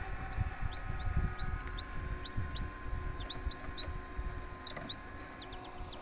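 Newly hatched village chicken chicks from a homemade incubator peeping in quick, high, repeated chirps throughout, over a low rumbling background hum.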